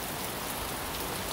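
Steady rain and dripping water on a new run-in shelter roof, a dense continuous patter heard up close and evenly loud throughout, with no voices.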